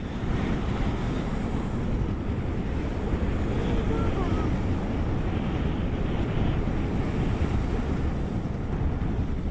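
Strong wind gusting steadily across open Manila Bay waterfront, a loud continuous roar with wave wash underneath and microphone buffeting throughout, no speech.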